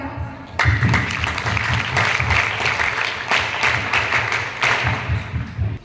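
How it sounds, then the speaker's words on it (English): At a school Yoga Day gathering, an audience gives a speaker a warm welcome. The clapping swells in after a brief quieter moment and carries on as a thick, moderately loud patter, with faint murmurs beneath it. "Please welcome her by warm applause."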